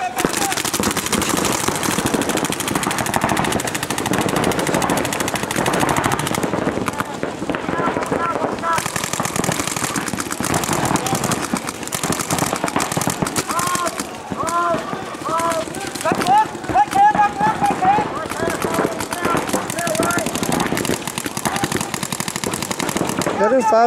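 Paintball markers fire in rapid bursts and volleys throughout a paintball game, dense popping shots packed closely together, loud and near, with players moving and shouting faintly underneath.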